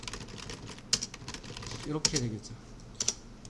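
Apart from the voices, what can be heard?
typing on a computer keyboard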